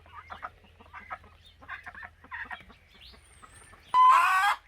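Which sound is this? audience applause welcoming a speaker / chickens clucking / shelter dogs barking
chickens clucking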